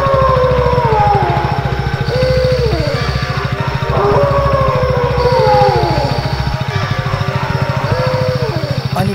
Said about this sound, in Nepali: औँसीको रातमा किचकेनालाई बाइक पछाडि बसालेर राहुल आफ्नो बाइकलाई दौडाउँदै त्यही सुनसान बाटोमा अगाडि अगाडि बढिरहेको थियो।